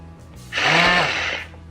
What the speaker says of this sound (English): it comes with the drill that actually makes a sound